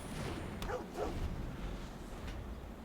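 A cartoonish puppy dog barks twice in quick succession as the Puppy Dog card is played in MTG Arena, a short yappy sound over steady game background noise.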